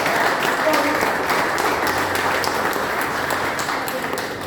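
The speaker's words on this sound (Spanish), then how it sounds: "Denle un aplauso al Señor en esta noche." Congregation applauding at an evening church service, a steady dense wash of clapping filling the room from start to finish, fairly loud and even, with no voices standing out over it.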